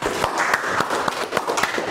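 A fourth-grade classroom gives a group a round of clapping, sharp hand claps in a quick, fairly regular rhythm, close and lively, with a few voices underneath.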